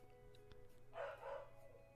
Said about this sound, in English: Okay, my dog is barking.